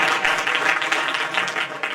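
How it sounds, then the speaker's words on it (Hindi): Steady, dense applause from an audience at a community student award ceremony in a hostel hall, continuous clapping filling the whole moment at close range. "जोरदार तालियां"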